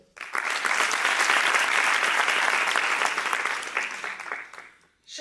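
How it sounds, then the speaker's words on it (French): An audience at an evening inauguration of a children's social clinic at Hotel-Dieu bursts into sustained applause, many hands clapping densely for about four seconds before it tapers off and stops. "Applaudissons Vera Morbel."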